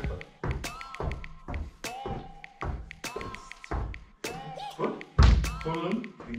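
A football is kicked in a kindergarten setting, giving repeated thumps one after another at an irregular pace, with one heavier, louder impact near the end.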